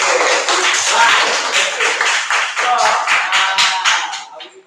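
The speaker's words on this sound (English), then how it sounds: "Please clap your hands for the players." Schoolchildren in a primary school classroom applaud the players, loud close clapping that carries on throughout and fades out at the end.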